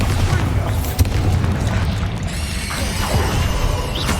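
Bombarda blasting spell explosions in the video game Hogwarts Legacy, a loud sustained rumbling boom with a sharp burst near the start, layered with dense game combat noise.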